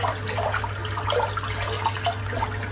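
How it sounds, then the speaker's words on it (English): Tap water runs steadily into a bathroom sink to rinse out shaving lather, a continuous close splashing rush with a low hum underneath. "Just rinsing the sink out because it's just chock-a-block full of lather. Fill it back up again and a bit of water."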